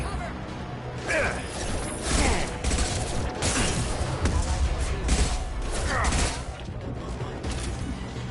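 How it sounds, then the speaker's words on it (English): Rapid mechanical gunfire bursts in the video game Lotus Effect 2 rattle continuously at close range, mixed with clanking game effects and music-like noise throughout. "I truthfully don't see what's shooting at me."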